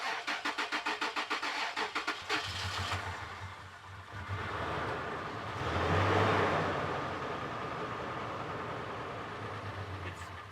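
A Toyota FJ Cruiser, key turned after years of sitting, cranks with a rapid rhythmic starter chatter for about two seconds, then its engine catches and runs with a steady rumble that swells briefly before settling into an even idle.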